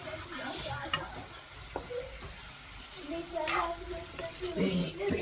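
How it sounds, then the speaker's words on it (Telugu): Leafy greens for a chutney wilt in oil in a pan, with a soft sizzle broken by stirring clicks and scrapes, a voice talking over it intermittently. "మూకుడు పెట్టి ఆయిల్లో ఆ లీవ్స్ అన్నీ ఏదైతే పచ్చడి వేసుకుంటున్నామో ఆ లీవ్స్ అన్నీ వేసి మగ్గిస్తుంది"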